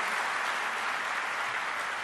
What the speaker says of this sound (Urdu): آپ کی بھرپور تالیوں میں لیڈیز اینڈ جینٹلمین